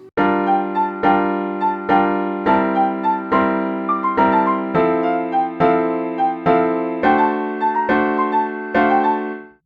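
Piano playing a light, carefree melody over chords, steady repeated chord strikes in an even rhythm with the tune on top, close and clean without any voices.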